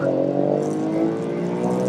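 A BMW E46 M3 with SMG gearbox launching from a standstill with traction control off, its engine note rising steadily under hard acceleration toward 60 mph, loud and close throughout the short burst.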